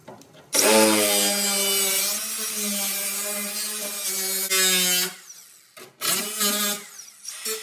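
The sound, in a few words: cutting out car body metal on Grand Marquis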